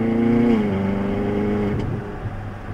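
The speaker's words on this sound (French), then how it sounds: "J'ai toujours ce même plaisir à conduire cette voiture." Ferrari engine while driving, a close, loud, smooth hum that rises in pitch and then settles lower as the car cruises, with no voices over it.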